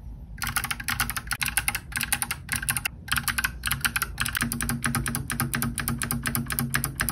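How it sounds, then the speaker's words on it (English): Mechanical keyboard fitted with Green Box switches from Temu, typed on continuously with dense, crisp clicky keystrokes, close and steady with only brief pauses. "Here's a quick sound test. But remember, every keyboard is unique, so take my sound test with a grain of salt."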